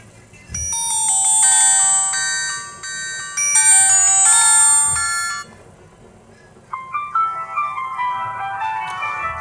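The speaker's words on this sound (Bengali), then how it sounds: "চলুন দেখা যাক যে ফোনটির রিংটোনের সাউন্ড কেমন ছিল।" A GDL G904 keypad mobile phone plays its ringtone, a loud electronic melody of bright repeated chiming notes that pauses and then shifts into a softer, quicker tune.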